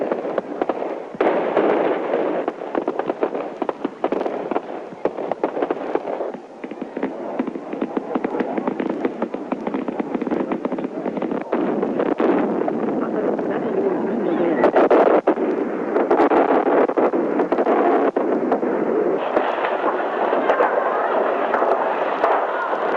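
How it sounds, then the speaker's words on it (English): Fireworks going off in a 1965 celebration in Accra, Ghana, marking an African unity conference: a dense, continuous crackle and popping barrage fills the scene, loud throughout, with scattered sharper bursts. "It was a time for Africa to celebrate with fireworks."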